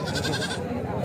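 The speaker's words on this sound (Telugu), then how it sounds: "పెద్ద సైజు మేకపోతులు అయితే ఉన్నాయి చూడవచ్చు" Bleating of large billy goats at a weekly goat and sheep market in Kothacheruvu, a dense continuous chorus of livestock calls close by with people talking underneath.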